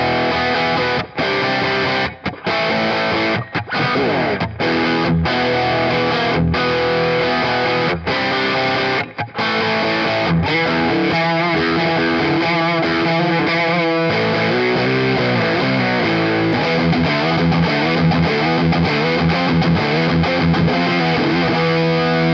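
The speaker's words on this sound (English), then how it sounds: "it's very, very good distortion pedal. Overdrive distortion." Electric guitar played through a Joyo Baatsin overdrive distortion pedal, gritty sustained chords and riffs with brief pauses early on, then continuous thick playing.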